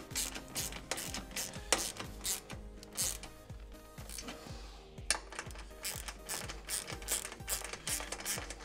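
A ratchet tightens speaker pod bolts in a series of rapid, evenly spaced clicking strokes, close and fairly quiet, repeating steadily with only brief pauses between the swings.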